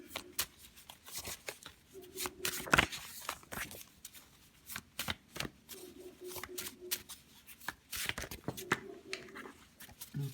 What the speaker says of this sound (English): I'm trying to shuffle so they could pop out and you can see it on camera